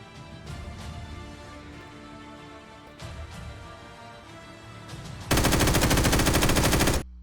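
Gunfire in a modded Minecraft game: scattered single shots and short bursts, then a loud, sustained automatic burst near the end, close and dominant with no talking.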